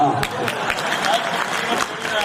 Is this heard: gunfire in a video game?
no